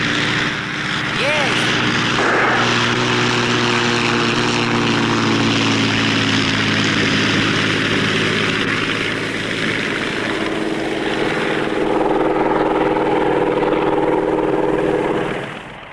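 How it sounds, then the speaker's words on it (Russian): A propeller airplane takes off in a 1983 Soviet film scene, its engine drone loud and sustained with a throbbing prop tone that shifts slightly in pitch before fading at the end. "Хорошо взлетели."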